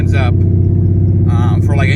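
A Ford Mustang's engine rumbles steadily while it is driven around town. The low drone runs continuously and loudly, and someone talks over it in bursts.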